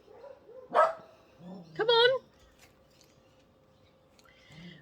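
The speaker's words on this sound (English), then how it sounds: "Ada and Vanessa next door, they're barking" Dogs next door bark in two short bursts, a few seconds apart and moderately loud, with a fainter yip near the end over a quiet indoor room.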